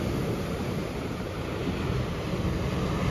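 Storm surf pounding a beach at Balaklava, Crimea: a continuous, loud roar of breaking waves with wind noise buffeting the microphone, no voices, one wave rolling in after another.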